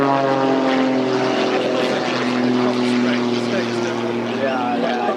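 A propeller aircraft flies a rolling display at the Eastbourne Airshow, its engine droning loud and steady with a sustained tonal hum, while a commentator talks over it throughout.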